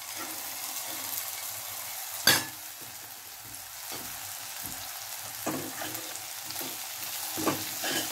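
Moth beans (matki) sauté with spices in a pan over a low gas flame, a soft, steady sizzle broken by occasional spatula knocks and scrapes while being stirred, close up and fairly quiet.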